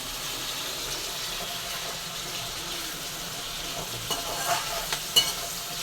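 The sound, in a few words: vegetables sautéing in oil for sambar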